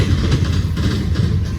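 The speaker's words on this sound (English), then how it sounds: "There's a train way back, they're doing some switching." Railcars being switched by a train far off produce a dense, rumbling roar with faint rhythmic clatter. It stays steady and loud throughout, with no voices.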